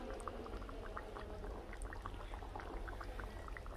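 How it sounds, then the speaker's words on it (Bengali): A pot of fish curry bubbles on the stove, a steady low simmering burble with scattered small pops running throughout, close and moderately loud with no voices. "দেখো মাছের ঝোলটা ফুটে এসেছে"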